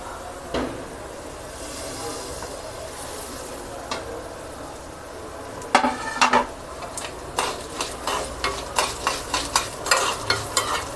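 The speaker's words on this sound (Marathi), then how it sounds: "आता याच्यात आपण जिरा आणि धनिया भाजून घेऊ" Cumin and coriander seeds roasting with chana and urad dal in a pan for curry leaf chutney: a soft dry sizzle, then a steady series of scraping stirs from a spoon against the pan, close up.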